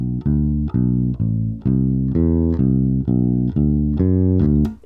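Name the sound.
simple walking bass line played on bass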